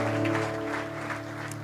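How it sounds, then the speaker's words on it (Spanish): Church congregation applauding, soft scattered clapping over a steady sustained organ or keyboard chord. "démosle un fuerte aplauso al Señor por la vida de David"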